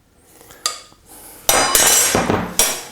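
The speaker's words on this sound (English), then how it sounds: "I'm using a silicone spatula because it's really good for getting things out of bowls." A silicone spatula scrapes a no-bake white chocolate cheesecake mixture out of a bowl, giving short clinking scrapes and knocks against the bowl, followed by a louder stretch of scraping.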